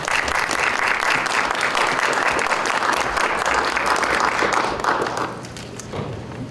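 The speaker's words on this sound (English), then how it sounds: "I'd just like to give them a little bit of a round of applause if we could." Sustained audience applause fills a middle school event, dense and steady for about five seconds before tapering off slightly at the end.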